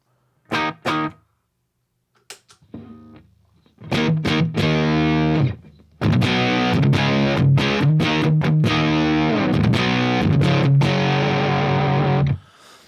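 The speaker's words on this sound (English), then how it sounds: "it really almost sounds like what happens when you run an overdrive pedal into another overdrive pedal" Electric guitar through a HipKitty Chameleon pedal set for a fuzz-like overdrive: a few short plucked notes, then thick distorted chords and riffs ringing in sustained bursts, loud and close.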